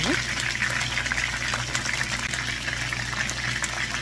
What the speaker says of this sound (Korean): 조금만 더 튀길 거예요